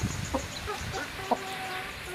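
Chickens sunbathing give a few short clucks, close and moderately loud, with a brief sharp call near the middle over quiet outdoor background.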